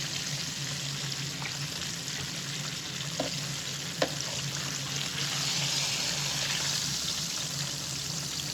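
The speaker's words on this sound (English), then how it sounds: "Now I'm gonna fry it." Flour-coated tilapia fish frying in hot oil, a steady dense sizzle with faint crackles and a couple of small pops, close and continuous throughout.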